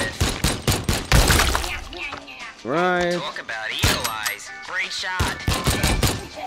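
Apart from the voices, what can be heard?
gunshots in the VR shooting gallery game Shooty Fruity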